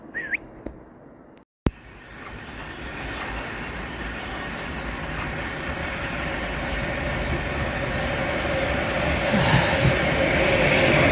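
A Class 777 electric train arrives at Rock Ferry station with a steady, growing rumble and rising motor whine, preceded by a brief click and a short electronic chirp.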